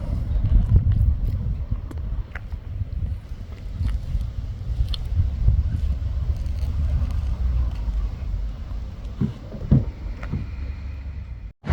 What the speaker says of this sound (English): let's get in the Polaris, Jesse's buggy, and take a ride